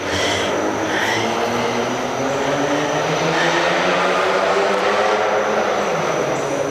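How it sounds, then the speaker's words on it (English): A loud unmuffled vehicle engine drones past a home garden, a steady rough roar holding for several seconds and swelling slightly as it goes by. "Gotta love people who have no muffler."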